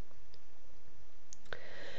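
A computer mouse clicks once on a verify button: a single sharp, quiet click after near silence, followed by a faint hiss.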